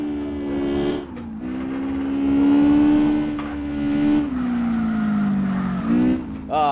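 A drift car's engine in CarX Drift Racing Online holds a steady high rev, dips and rises again, with a brief exhaust pop near the end. The engine is loud and close, with no talk over it.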